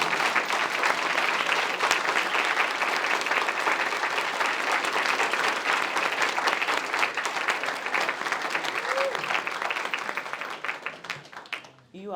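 A standing crowd gives three retired judges a sustained, dense round of applause, loud and steady for about ten seconds before tapering, with some voices mixed in at the close.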